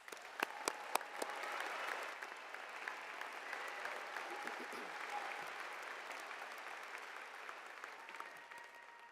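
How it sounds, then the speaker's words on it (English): Audience at a spring convocation graduation ceremony gives a sustained round of applause, a broad, even wash of clapping from a large hall with a few sharp claps near the start and faint voices underneath. "Let's give them a big round of applause."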